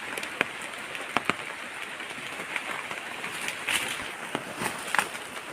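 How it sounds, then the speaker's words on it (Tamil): Steady rain patters on banana leaves at a hillside farm in Kodaikanal, a continuous soft hiss broken by scattered louder drip taps, fairly close and alone without talk. "மழை பெய்யுது"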